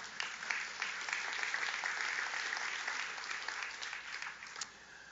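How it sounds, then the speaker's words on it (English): Steady applause from a lecture audience, moderately distant and fairly even, holding at a constant level for several seconds before easing slightly. "clap your hand for Kashif if you like."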